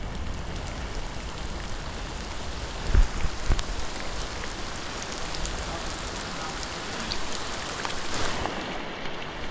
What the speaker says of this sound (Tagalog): Medyo malakas na kasi yung ulan eh.